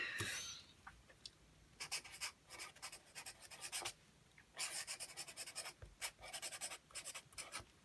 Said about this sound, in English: write Merry Christmas on it